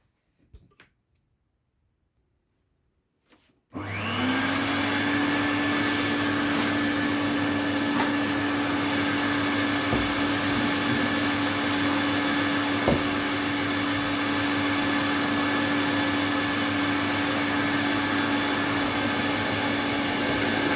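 A 1975 Electrolux Z502 vacuum cleaner is switched on after a few seconds of near silence. It spins up and then holds a loud, steady whine and whoosh that runs unbroken to the end.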